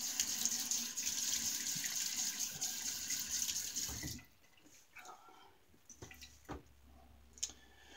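Water runs steadily from a bathroom tap for about four seconds before shaving, then stops, leaving a few faint drips and small splashes nearby.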